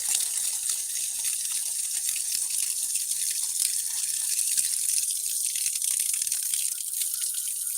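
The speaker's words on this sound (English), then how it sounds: "Sorry, I'm watering right now. I can't just leave the hose." A garden hose sprays water onto a plant, giving a steady, bright, hissing rush that stays even and continuous with no talk over it.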